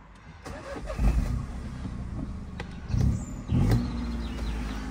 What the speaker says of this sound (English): Let's just start her up.